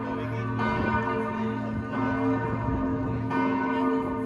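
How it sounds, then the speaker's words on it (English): Church bells of Basel Minster ring in a steady, moderately distant peal, the overlapping tones sustaining and renewing throughout with no talk over them. "You can hear the church bells."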